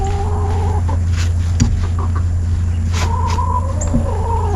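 Homestead hens cluck in short, repeated calls over a loud, steady background hum, with a few sharper clucks standing out now and then.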